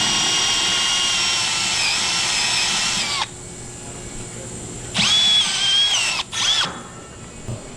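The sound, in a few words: power drill drilling out a rivet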